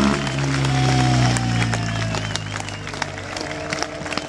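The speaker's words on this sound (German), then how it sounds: "Komm, Applaus für Uli Preh" A crowd at a cafe racer motorcycle race event applauds beneath loud music playing over it, with the clapping clearest near the end as the music fades.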